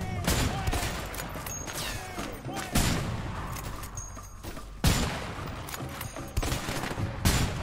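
Gunfire in the video game A Way Out crackles in repeated bursts and sharp single shots, moderately loud, with occasional faint voices in the background.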